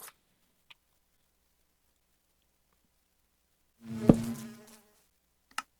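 Bee near a bee nest in Minecraft giving a brief buzzing drone that swells for under a second, set among a few faint clicks in otherwise quiet surroundings.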